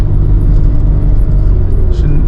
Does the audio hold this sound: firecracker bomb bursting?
no